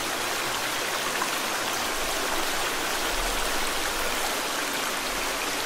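Loud, steady rush of flowing water in the survival game The Forest, a dense unbroken wash of sound like a stream or waterfall close by, heard alone without talk.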